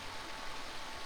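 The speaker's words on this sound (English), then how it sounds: "So the creek I'm currently standing on is known as Sherwood Creek" Creek water flowing steadily in Sherwood Creek, Devonian Regional Park, Metchosin BC: a close, even broadband rush with no breaks and no voices.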